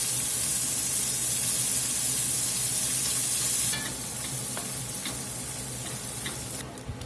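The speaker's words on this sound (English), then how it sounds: "Now we're going to get a bacon in the pot." Bacon browns in a pot with a loud, dense, continuous sizzle and hiss close to the microphone, easing slightly in level midway, with a few light scrapes and clicks near the end.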